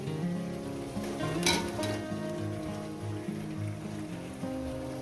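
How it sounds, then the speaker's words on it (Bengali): Chicken pieces frying (koshano) in a pan of spiced masala for a chicken curry, a steady close sizzle and crackle with faint stirring, running continuously with no voices. "চিকেনটাকে দিয়ে আমি আরও প্রায় দশ মিনিটের কাছাকাছি ন দশ মিনিট আমি এটাকে কষিয়ে নেব"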